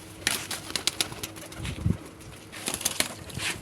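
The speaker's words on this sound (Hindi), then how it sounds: "ये कबूतर है लाखा कबूतर" A Lakha pigeon cooing in a loft, a low soft coo near the middle amid scattered rustles, shuffles and wing flaps, close and fairly quiet.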